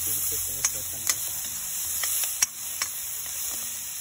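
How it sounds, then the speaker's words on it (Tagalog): Tomatoes sizzle and fry in a pan for a mussel soup, a steady close hiss with a few sharp pops and clicks of stirring scattered through it. "So lulutuin po natin mabuti ang ating kamatis"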